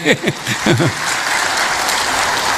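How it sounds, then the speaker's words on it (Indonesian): Audience applause for Kang Deddy Mulyadi rises after a few brief voiced shouts and settles into a sustained, loud wash of clapping from a crowd. "Tepuk tangan buat Kang Deddy Mulyadi."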